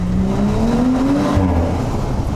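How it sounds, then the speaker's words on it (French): An Audi RS5 engine revs and climbs in pitch, then drops back, loud and echoing in an enclosed tunnel. "Il y a toujours un tunnel pour écouter le moteur"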